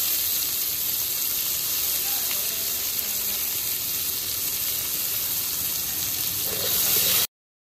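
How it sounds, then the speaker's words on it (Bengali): Chopped onions hit hot oil already spiced with bay leaves and dried chillies, giving a steady, loud sizzle and hiss throughout, with no talking, before it cuts off abruptly near the end. "এখন আমি কেটে রাখা পেঁয়াজগুলো দিয়ে দেবো।"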